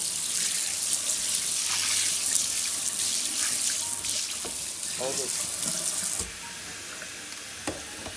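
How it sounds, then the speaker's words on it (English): Water runs from the sprayer of a newly replaced Moen kitchen faucet, a steady broadband hiss that stays loud and close, then drops to a quieter, thinner stream near the end. "try the sprayer"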